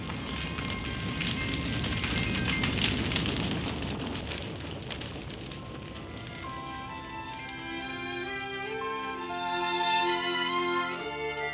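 Fire crackling and roaring in a fireplace in a 1977 Japanese animated telling of The Steadfast Tin Soldier, a steady crackle that fades under a gentle musical score.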